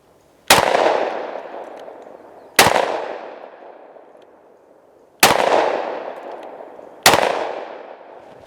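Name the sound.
S&W M&P 2.0 10mm pistol firing copper rounds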